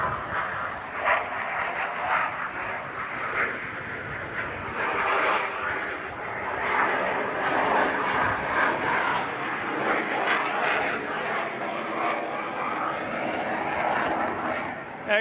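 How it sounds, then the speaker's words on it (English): A Boeing F/A-18 Super Hornet at an air show makes a slow high-angle-of-attack pass with a continuous loud roaring jet engine noise, over crowd murmur and a voice on the public-address system. "The Super Hornet High Alpha Pass."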